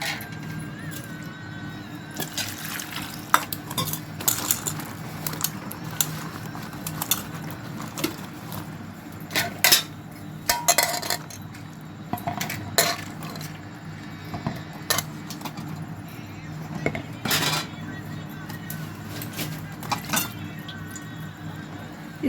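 Bell peppers being roasted and stirred in a pan in a village-style home kitchen, with scattered metallic clinks and scrapes of a utensil against the pan over a quiet background hum.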